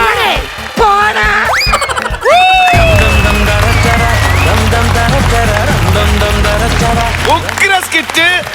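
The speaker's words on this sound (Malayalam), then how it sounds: "ഉഗ്ര സ്കിറ്റ്, നല്ല കൈയടി" Studio audience at a Malayalam comedy show claps loudly after a skit, the applause rising sharply and holding for several seconds amid comic boing effects and voices.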